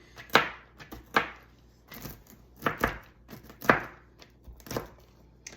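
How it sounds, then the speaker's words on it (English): A knife chops grapes on a cutting board for a salad topping, making sharp irregular knocks that repeat about once a second and sound close and clear, with no talking. "you just want to cut them up really good, just for a topping"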